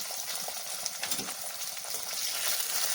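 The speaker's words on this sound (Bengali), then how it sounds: "এবার আমি ওই তেলটার মধ্যেই ভেজে নেব কয়েক কোয়া রসুন" Garlic cloves, green chilies and nigella seeds frying in hot oil give a steady, bright hiss and crackle that stays close and continuous throughout, with no voices.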